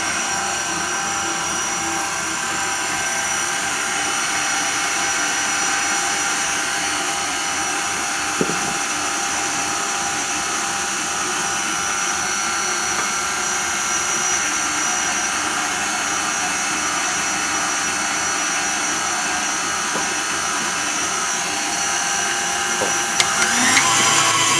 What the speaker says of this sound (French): Donc toujours au batteur pour obtenir un mélange bien homogène et sans grumeaux.